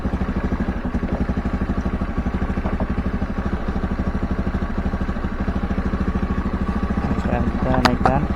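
A carburetor Honda Scoopy scooter engine runs with a steady, close putter that rises slightly in pitch near the end as the revs are raised.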